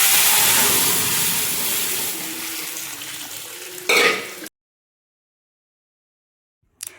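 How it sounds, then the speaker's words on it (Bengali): Dal being tempered with cumin seeds, bay leaf and dried red chilli dropped into hot oil, a loud steady sizzle that slowly fades, then a sharp burst before cutting to silence and a brief return. "জিরে আর তেজপাতা আর হচ্ছে শুকনো লঙ্কা এই দিয়ে ফোড়ন দিয়ে দিলাম ডালটা"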